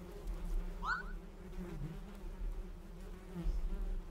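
Bees buzz around a store of honey in a farm-themed video game, a steady low insect drone that runs through the whole stretch, with a few brief higher chirps early on.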